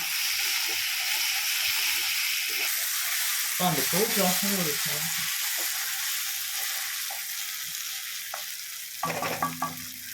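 Prawns for a home-style prawn thokku sizzle in a pan with curry leaves, a steady frying hiss with stirring scrapes and a brief voice partway through.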